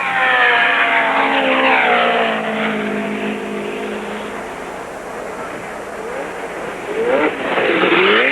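Race cars streak down the main straight at Ontario Motor Speedway during the 1970 California 500, engines roaring loudly with rising and falling pitch as they pass close by, fading slightly mid-pass before another surge near the end.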